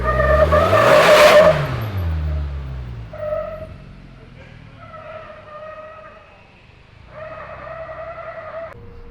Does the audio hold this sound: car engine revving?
yes